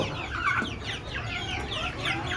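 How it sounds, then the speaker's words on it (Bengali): Native chickens clucking in a small rooftop coop, a busy overlapping chorus of short clucks and calls at moderate distance, steady throughout with no talk. "আমি ছাদে অল্প জায়গার মধ্যে এভাবে দেশি মুরগি পালন করি"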